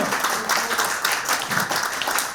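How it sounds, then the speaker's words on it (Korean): A lecture audience at a political rally breaks into steady, continuous applause, dense and even, with no pause for the whole span. "여러분 박수."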